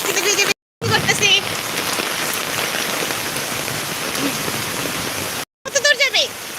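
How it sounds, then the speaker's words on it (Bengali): Rain pours steadily outdoors in a village, a loud continuous wash of drops close by, broken by two brief silent cuts, with a few faint voices and rustling toward the end. "আমরা বৃষ্টিতে ভিজে করতেছি।"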